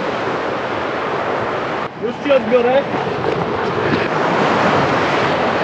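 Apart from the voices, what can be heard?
sea waves breaking on the shore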